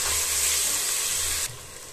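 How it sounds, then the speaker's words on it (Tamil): Tomatoes sauté in oil with ginger garlic paste for coriander rice, giving a loud hissing sizzle. The sound drops abruptly partway through and then continues softer, with no voices. "தக்காளி சேர்த்துட்டு நல்லா வதக்கும்."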